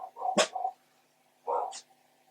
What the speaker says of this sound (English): I'm just waiting for my dogs to stop.